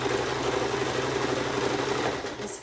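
An old, dusty home sewing machine runs continuously and close by, a steady rapid mechanical whir and clatter that holds the whole time with no pause.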